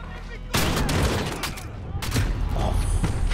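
Shotgun and other gunfire in the Call of Duty Modern Warfare embassy hostage mission, a sudden loud burst of blasts starting about half a second in and continuing as dense, overlapping shots, with some voice mixed underneath.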